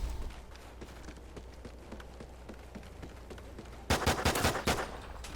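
Automatic gunfire in Call of Duty: scattered quieter shots and game noise, then a sudden loud burst of rapid fire near the end as a magazine is emptied.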